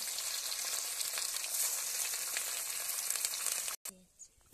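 Katla fish fry in hot oil in a wok with a steady, loud sizzle and crackle. A voice speaks over it before the sizzling abruptly cuts and quiets.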